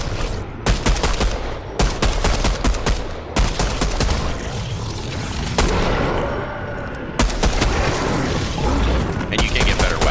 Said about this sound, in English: these are not auto-firing pistols